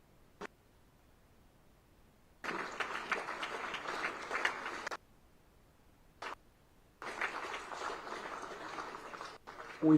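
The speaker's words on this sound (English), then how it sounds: "can we all stand up and clap for Mama?" An audience at a higher education conference launch stands and claps, with two sustained bursts of applause of several seconds each, separated by quieter gaps with a few isolated claps, heard from a moderate distance.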